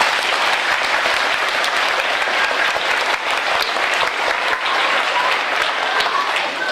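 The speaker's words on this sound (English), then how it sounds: "Give yourselves a round of applause." Dense, sustained applause from a large crowd at a ceremony honoring elementary school teachers, steady and loud throughout without any pause.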